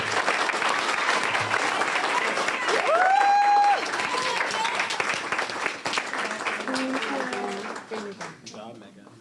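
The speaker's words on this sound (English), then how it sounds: "please give a round of applause to Megan Malcolmus" An audience at a youth civic awards ceremony claps and applauds steadily for several seconds, a dense close wash of hands with voices and a brief tonal sound mixed in, fading toward the end.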